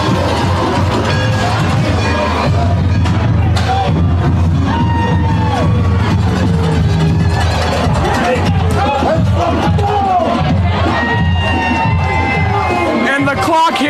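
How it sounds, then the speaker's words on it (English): Loud, excited crowd at a varsity high school football game erupts in sustained cheering and whooping, with a bell being rung by women in the stands, dense babble and shouts filling the whole stretch without pause. "The ladies ring the bell, and this is the most hyped I have seen the crowd in years."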